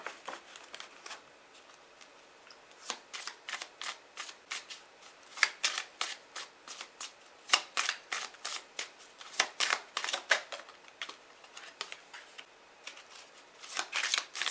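Tarot cards are shuffled by hand in a steady run of crisp, rapid riffling snaps and flutters, close and soft, continuing for about fifteen seconds with no talk.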